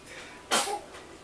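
A single sharp sneeze bursts out indoors, one brief loud burst over quiet room tone.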